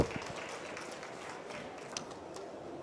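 Faint applause at a French trade-fair awards ceremony, the Natexpo Trophées: a soft, diffuse patter of many hands from a distance, steady and low throughout.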